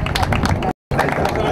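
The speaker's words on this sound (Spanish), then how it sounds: "Un fuerte aplauso para él, por favor." An audience at a youth soccer club showcase claps in a short, dense burst of applause mixed with crowd chatter, broken by a brief silent gap.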